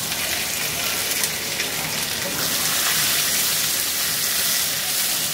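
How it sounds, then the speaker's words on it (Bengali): Ginger, onion, tomato and green chilli sizzle in hot frying oil over high heat, a dense, loud, even hiss that continues without pause. "এর মধ্যে আমি এই জিনিসগুলো দিয়ে ভেজে নিব। আদা কুচি, পেঁয়াজ, টমেটো আর"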